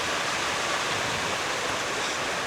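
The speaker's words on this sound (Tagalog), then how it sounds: "yung ulan lumakas na naman" Heavy rain pouring down at a flooded mini farm during strong wind, a loud, constant, dense hiss of falling water with no pauses and no voices.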